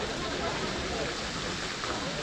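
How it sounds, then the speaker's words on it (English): Steady rain falling outdoors in Mostar, Bosnia and Herzegovina, a dense, even hiss that holds at a constant level throughout. "Here, it is started to rain, but no problem."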